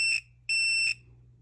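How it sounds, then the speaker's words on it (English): An electronic diamond tester emits two loud, high-pitched electronic beeps while small diamonds in sterling silver jewelry are tested, the second beep longer than the first, with a faint low hum underneath. "It's probably going to beep at us because they're small."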